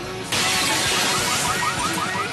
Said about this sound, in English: Smashing shops.